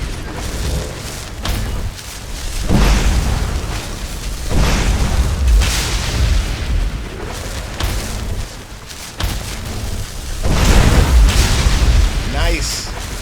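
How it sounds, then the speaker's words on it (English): In modded Skyrim, the Dawnbreaker sword sets off loud booming explosions as it kills undead, several heavy bursts spread across the stretch, mixed with combat noise and someone talking. "God, I love the explosion that Dawnbreaker makes when it kills an undead."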